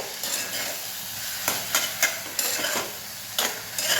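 Milk being stirred into semolina shira in a pan, a steady wet sizzle broken by periodic scraping strokes of the spoon, heard close and without voices.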